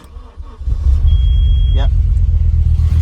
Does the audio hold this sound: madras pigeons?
no